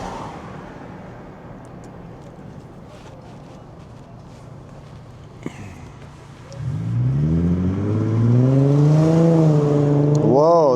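On a city street in Oakland's Hegenberger triangle, a car pulls up alongside and accelerates hard as if racing, its engine revving loudly and close with a rising, wavering pitch above quieter traffic noise.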